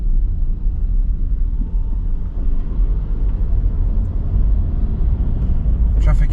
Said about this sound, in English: Traffic is slow but moving.